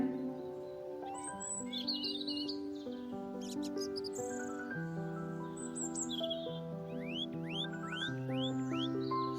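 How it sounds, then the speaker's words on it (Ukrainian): Jay calls from a preschool spring-birds lesson: bright, repeated chirps and upward-sweeping calls, fairly close, over steady sustained musical tones throughout. "Сойка. Перелітня."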